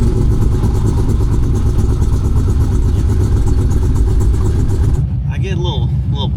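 Hennessey Twin Turbo Demon 1700 with a twin-turbo engine, a loud, close, steady engine roar that drops away abruptly near the end, followed by a few faint whistling turbo or tire sounds.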